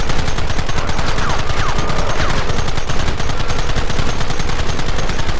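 Rapid gunfire fills a battle in the video game Red Dead Redemption. Loud, close shots come in a dense, continuous volley, overlapping without pause.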